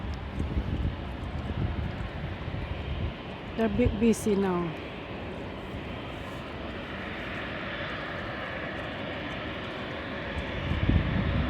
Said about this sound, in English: This is the plane that just landed, and he just turned around to stop somewhere